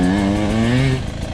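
A 2020 Beta 300RR Race Edition motorcycle engine revs hard in one rising, buzzing note that drops away after about a second, close and loud.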